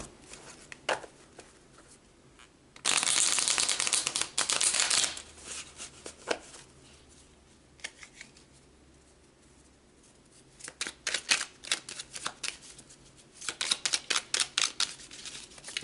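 Tarot cards are shuffled by hand. A dense burst of riffling comes early, then quieter handling, and later a fast run of crisp, snapping card flicks toward the end. No one speaks.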